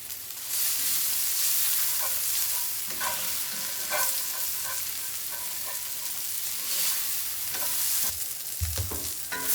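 Onions fry in a cast iron pan, crackling and sizzling steadily up close, with a few stirring scrapes and a low thump near the end.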